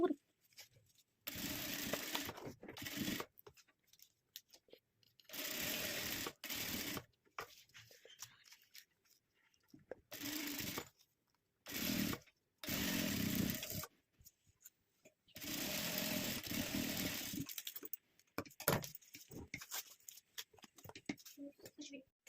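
A sewing machine stitches a handmade fabric door toran made from scrap materials, working in several separate runs of steady mechanical whirring with silent pauses between them and occasional soft talk in the gaps.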